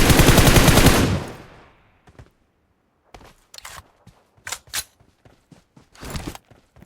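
Loud automatic gunfire from shooting at enemies in PUBG Mobile opens with a dense one-second burst. Scattered quieter shots, clicks and game effects follow in irregular bursts.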